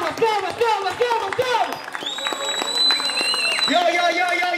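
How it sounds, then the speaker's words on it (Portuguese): A crowd at a rap battle final applauds and cheers, dense clapping rising under a shouting voice, with a whistle-like tone cutting through in the middle. "Uma salva de palmas pra essa final, família!"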